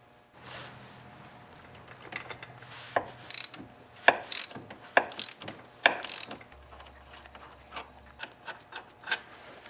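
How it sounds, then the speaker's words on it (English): A hand ratchet clicks in short bursts of quick pawl ticks while 12mm ball joint bolts are loosened on an ATV front wheel assembly, close up with pauses between strokes and no talking. "I'm going to remove the 12mm bolt on the upper ball joint and the 12mm bolt on the lower ball joint over here."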